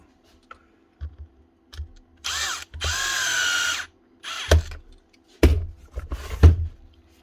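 Power screwdriver driving the handle screws on a Bosch GBH 8-45 D rotary hammer during a repair outdoors, giving one long steady whir followed by several short bursts, with light clicks between runs.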